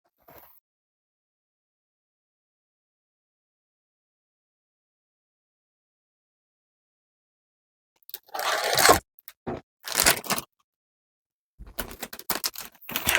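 A marshmallow package being torn open after a long silence, with short crinkly bursts of plastic wrapper rustling and crackling close up.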